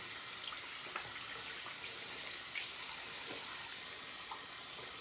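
A shaving brush is rinsed under running water from a tap, giving a steady, soft hiss of flowing water with faint splashes, heard close and alone.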